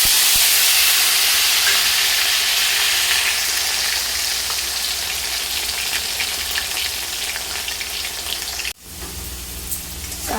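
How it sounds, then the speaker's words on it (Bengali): Potatoes frying in mustard oil in a kadai over a gas flame make a loud, continuous close sizzle and hiss that eases slightly, then drops sharply near the end before resuming. "আলুগুলো হালকা লাল করে ভেজে নিচ্ছি"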